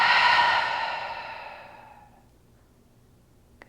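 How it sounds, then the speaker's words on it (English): A single long, deep exhale flows out through an open mouth during a yoga session, starting strong and breathy and then fading steadily to near silence over a couple of seconds, close and alone. "Exhale out the open mouth."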